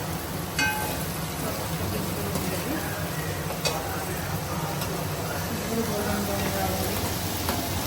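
Gravy ingredients fry in a hot pan with a steady, close, rain-like sizzle and crackle. The sound holds an even level throughout, with an occasional brighter pop.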